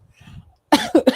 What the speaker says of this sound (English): Sorry, I was trying not to cough